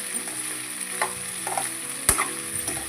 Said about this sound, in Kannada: ಇದು ಬರೀ ಎಣ್ಣೆಗೆ ಬೇಯಿಸ್ರಿ, ಅಂದರೆ ಟೇಸ್ಟ್ ಬರುತ್ತೆ